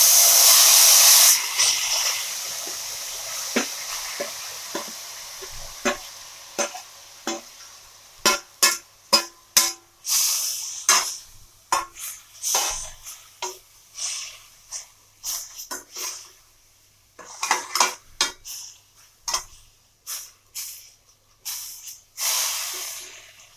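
Grated beetroot cooks in a hot pan for halwa: a loud burst of hissing at first, then fades into a series of short, separate sizzling puffs and sputters spaced irregularly, nearby and without speech.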